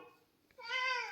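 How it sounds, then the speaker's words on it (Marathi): A house cat gives a single drawn-out meow indoors, fairly close and clear, preceded by a faint softer vocal sound in an otherwise quiet room. "कोणतरी मांजर आलं रे घरात"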